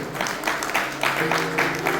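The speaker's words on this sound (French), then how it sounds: "On nous applaudit pour nous à la gloire de Dieu." Congregation applauding during a church celebration service, a steady wash of many hands clapping at moderate volume with a faint tonal hum beneath.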